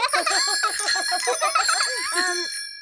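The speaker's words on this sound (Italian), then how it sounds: "Suonare il campanello comunica agli altri che state passando." Rapid, bright cartoon bicycle bell rings repeated in quick succession, several bells overlapping loudly and close, ending with a couple of slower dings.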